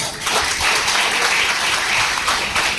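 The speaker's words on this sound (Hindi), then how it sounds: "जोरदार तालियां" A crowd at a hotel gathering breaks into loud, dense applause, a continuous roar of many hands clapping close by, steady and full for the whole stretch.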